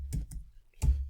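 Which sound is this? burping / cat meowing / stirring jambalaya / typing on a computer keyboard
typing on a computer keyboard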